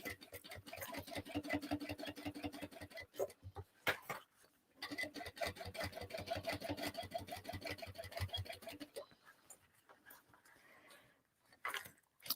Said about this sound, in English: I'm going to be running a couple of basting stitches round